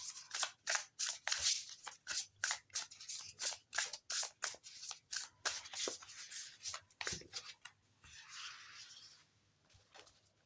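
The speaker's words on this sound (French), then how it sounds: "nous allons mélanger les cartes" Tarot cards being shuffled by hand, a quick run of crisp, papery riffling slaps in a steady rhythm, close and fairly loud, easing into softer sliding and rubbing toward the end with no talk.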